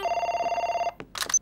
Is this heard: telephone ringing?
yes